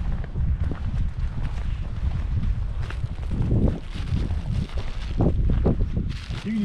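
Gusty wind buffets the microphone on a winter Appalachian Trail hike, a continuous low rumble rising and falling in bursts, with faint shuffling and a few soft voice fragments.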